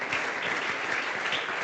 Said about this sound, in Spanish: Un aplauso a las palabras.